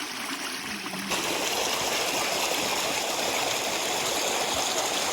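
A clean mountain stream on Namsan in Gyeongju, South Korea, rushes and splashes in a steady, close, full wash of flowing water that swells slightly after the first second.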